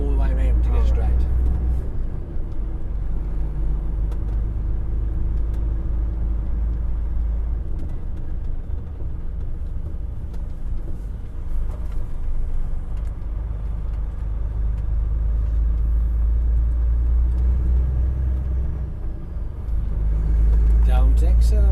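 A learner driver's car travels steadily along the road during a driving lesson, its low engine and road rumble continuous and close throughout, with an instructor talking over it.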